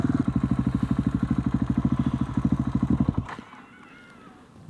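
A motorcycle engine chugs close and loud with a rapid, even pulsing beat, then cuts out abruptly to near silence before a brief noise at the end.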